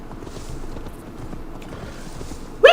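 A ridden horse in a video game, its hooves clip-clopping in a steady, close rhythm, ending with a short high vocal exclamation.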